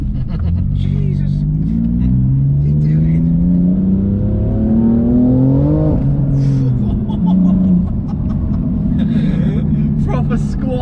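A 700 BHP BMW M4 accelerating hard, heard from inside as a loud, deep engine roar climbing steadily in pitch, a sharp gear change, then pulling again, with excited voices talking over it.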